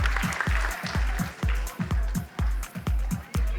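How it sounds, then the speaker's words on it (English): Audience of parents and students at a school competition clapping in a steady, uneven rhythm of distinct claps, close and lively, with no talk. "Parents and students, keep the claps coming in."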